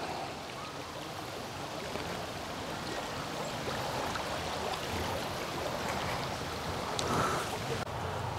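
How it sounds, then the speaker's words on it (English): A creek flows beneath the Cedarburg covered bridge in Wisconsin, heard from on top of the bridge as a continuous, moderately loud rushing wash, with light wind and no talking. "So here's on top of the bridge, just the creek that we're going over."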